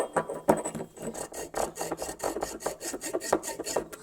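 Sandpaper rubs back and forth over a small cast aluminium figure in quick, steady rasping strokes, close and fairly quiet, with no talk.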